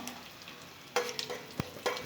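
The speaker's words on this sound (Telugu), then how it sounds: "ఎండుమిరపకాయ ఇలా ముక్కలు చేసుకొని వేసుకున్నాం" Broken dried red chillies crackle and sizzle in hot oil with tempering seeds for pappu charu, a steady fry hiss punctuated by a few sharp spatula scrapes and stirs close up.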